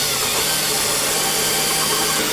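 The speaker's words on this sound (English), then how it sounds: "I drill it from the inside just to get that excess plastic out of there very lightly." A power drill whines continuously at high speed drilling out plastic, a loud, close, steady buzz with no pauses.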